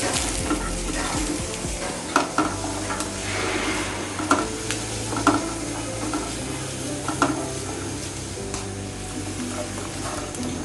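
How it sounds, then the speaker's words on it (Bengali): Garlic and green chilies frying in oil in a pan, a steady low sizzle broken by sharp clicks and stirring knocks every second or two, heard close with no talk. "এবারে আমি রসুন এবং কাঁচামরিচ এভাবে তেলে নিচ্ছি।"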